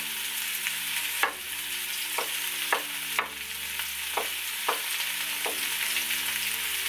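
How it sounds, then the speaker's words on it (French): Courgettes frying in hot oil give a steady broadband sizzle, broken by about seven sharp scrapes and clacks of a stirring utensil spaced through the clip, close and clear with no talk. "Donc là l'huile est chaude, je vais mettre les courgettes. Je vais remuer pendant ce temps-là,"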